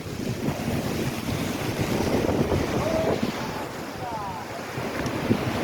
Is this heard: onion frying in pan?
no